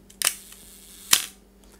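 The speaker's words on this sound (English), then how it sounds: "when I click the shutter" A camera's cloth focal-plane shutter set to a 1-second exposure gives two sharp clicks about a second apart, one as it opens and one as it closes, close up in a quiet room.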